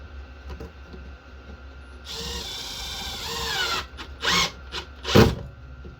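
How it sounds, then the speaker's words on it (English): A power drill drives small screws into a piece of wood, its whirring motor running in a sustained burst and then in several shorter, louder bursts, close by with no talk. "Got me some little screws I stole out of a pack from Tinges."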